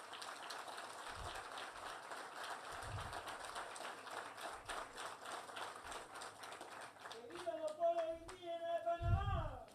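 An audience at an indigenous peoples' development project launch claps in a steady, moderate round of applause, with rhythmic thumps and a voice rising toward the end.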